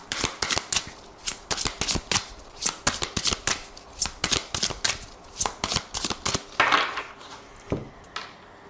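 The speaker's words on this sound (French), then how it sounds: "on va utiliser cet oracle et on va prendre aussi des cartes avec le tarot" Tarot and oracle cards shuffled by hand, a rapid series of crisp riffling bursts close up, repeating in a steady rhythm for several seconds with no voice.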